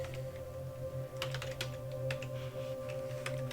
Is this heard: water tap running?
no